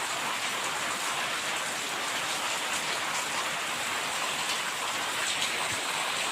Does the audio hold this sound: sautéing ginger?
no